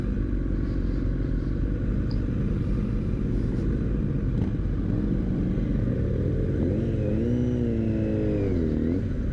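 Motorcycle riding along rural Welsh roads near Llangurig, a steady loud engine drone with wind rumble throughout, rising and falling in pitch toward the end as the rider shifts and accelerates.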